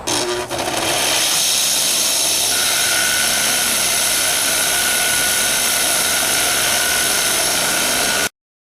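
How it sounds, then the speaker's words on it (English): A bench grinder with a wire wheel cleans oil and gunk off a knife made from a rasp, a loud, close, continuous whirring hiss that runs steadily and then cuts off abruptly. "now we're going to hit it with the grinding, the wire wheel here, and get all that gunk"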